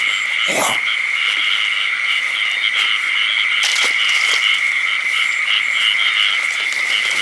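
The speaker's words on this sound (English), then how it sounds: "Frog." Frogs croak in a steady chorus by a garden pond, with a louder nearby call near the start and more sporadic croaks standing out over the continuous trilling background.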